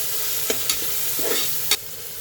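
Green chilies, coriander and mint sizzle steadily in a chicken curry pan, with a few light clinks and scrapes of a spoon stirring over the constant frying hiss.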